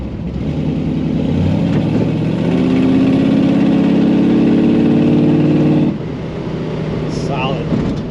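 Steady engine drone of a 1932 Ford 3-window coupe resto-mod driving through a curve, a smooth mid-pitched rumble that swells slightly and then eases off, heard from inside the car.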